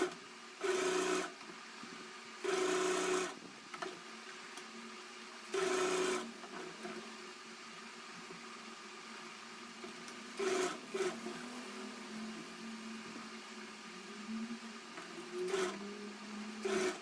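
Short bursts of a sewing machine stitching the sleeve of an old silk saree being made into an Anarkali, running in several separate runs with pauses and a steady faint hum between them.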